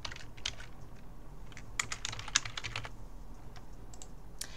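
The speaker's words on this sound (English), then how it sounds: "So here we go to type that into the spreadsheet." Fingers type steadily on a computer keyboard while entering data into a spreadsheet, producing a quick, irregular run of close, crisp key clicks with brief pauses and no speech.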